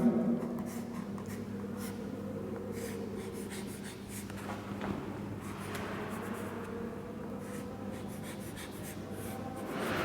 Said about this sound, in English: I am drawing one diagram.